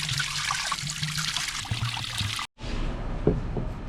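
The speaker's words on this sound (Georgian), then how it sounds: "6 ლიტრა წყალს ავიღებ" Water from a spring in southern Georgia trickling and splashing steadily into bottles being filled, close and continuous, with a brief pause before the flow resumes.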